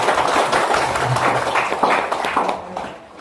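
An audience at an Indonesian school principal installation ceremony claps steadily, dense and fairly loud, then fades toward the end.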